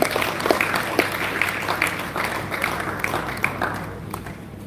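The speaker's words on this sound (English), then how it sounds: "Please, a round of applause to them." Steady applause from a real estate panel audience, dense clapping that carries on evenly for several seconds with no talk.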